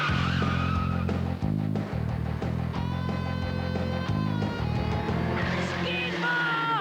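Car skidding with long tire squeals over a loud engine roar, several sustained screeching bursts at close range, alone without talk.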